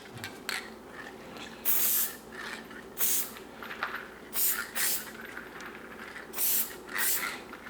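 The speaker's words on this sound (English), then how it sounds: "then I spray from all 4 directions" Short bursts of aerosol lubricant spray hiss nearby onto brass cartridge cases, about six separate sprays spaced a second or so apart over a faint background.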